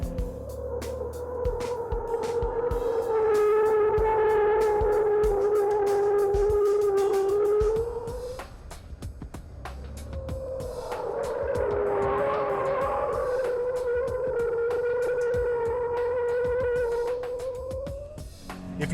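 A Scion FR-S on all-season tires drifting from a low-speed first-gear entry, its engine droning steadily near and loud, with tire squeal rising over it in two long sustained passes.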